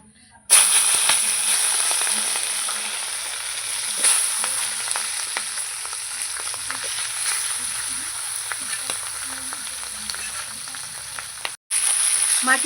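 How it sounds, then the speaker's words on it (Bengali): Fish heads fry in hot oil in a wok with a steady, loud sizzle and scattered crackles for about eleven seconds, broken by a brief pause near the end. "এবার মাছের মাথাগুলো সব তেলের মধ্যে দিয়ে ভেজে নেবো"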